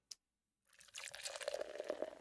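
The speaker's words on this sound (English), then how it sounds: "so it's just like a drink pour" A drink pour sound effect in a melodic rap track: a brief click, a pause, then a close, bubbling pour of liquid that fills the rest of the short clip.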